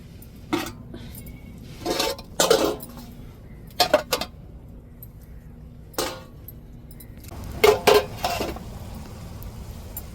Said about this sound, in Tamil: இப்போ அப்படியே தட்டை போட்டு மூடிடுவோம்.